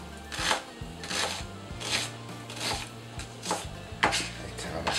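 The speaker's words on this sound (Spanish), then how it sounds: "vamos a ir picando la cebollita y estos dos dientecitos de ajo" A knife chops onion and two garlic cloves on a cutting board in a home kitchen while a pot cooks, giving quick rhythmic strikes in short bursts over a low steady background hum, with no talking.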